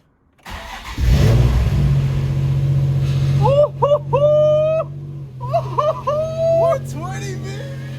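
Nissan 350Z engine cranking and catching after an oil gallery replacement, then idling with several sharp revs rising and falling, close and loud, with people talking briefly over it.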